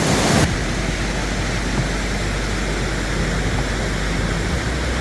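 Stream and waterfall running out of Dream Lake in Colorado's mountains, a steady broadband rushing roar that stays constant and fairly loud throughout, with no voices.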